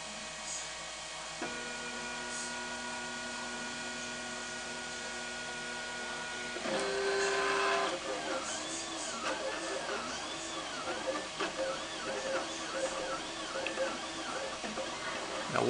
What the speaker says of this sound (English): now we've got the 3D printer set up and it's getting up to temperature, and we'll be starting the build here very shortly